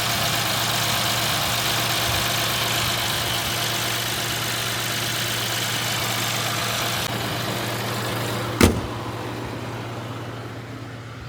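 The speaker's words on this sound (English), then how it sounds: "So that's the engine." A Lexus engine idles with its cover removed on a hot day, a steady close, even hum running throughout and broken once by a sharp click near the end.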